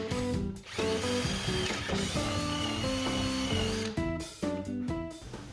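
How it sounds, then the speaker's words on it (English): A power drill bores lag bolt holes into the wooden frame of a cornhole board, whining steadily with shifting pitch as it bites, then stopping and restarting in a few short bursts. "Mark the lag bolt hole location in the frame and drill the holes"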